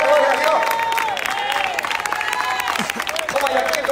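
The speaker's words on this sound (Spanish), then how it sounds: "Dele más palmas al Cristo de la gloria" A church congregation claps along during a lively service, rhythmic applause and crowd noise filling the space beneath a loud, continuous preacher's voice.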